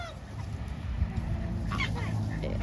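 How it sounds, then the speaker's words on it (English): Geese or ducks honking and calling around a farmyard food trough where a sick duck is kept, a steady run of nearby fowl calls over low background noise. "Hey Junior, try to go catch that duck right there, the one by the food trough."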